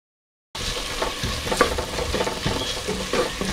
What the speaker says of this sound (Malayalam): അപ്പോൾ അതിലേക്ക് നമ്മൾ ചെറുതായിട്ട് അരിഞ്ഞു വെച്ചിരിക്കുന്ന ഉള്ളി അങ്ങോട്ട് ഇട്ട് കൊടുക്കാം.